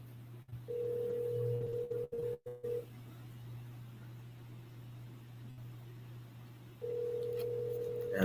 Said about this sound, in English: Answer the doggone phone.